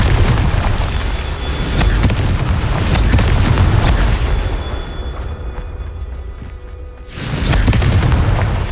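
Confringo blasting spell explosions in Hogwarts Legacy boom loudly in a dense, roaring burst that briefly drops away before surging back.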